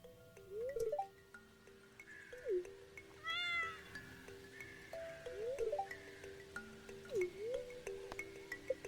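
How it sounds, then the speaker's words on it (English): A cat in the Stardew Valley video game meows several times, short rising-falling calls spaced across a quiet background of game music and faint ambient tones. "Oh, Marty got me a cat."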